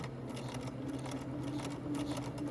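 Bernina 335 sewing machine stitching a buttonhole, a close, quiet, rapid steady mechanical whirring with a faint motor hum, no speech.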